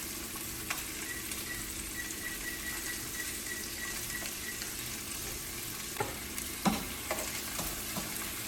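Chicken breast browning in a frying pan, a steady close sizzle and fry crackle throughout with a couple of brief clinks near the end, no talking.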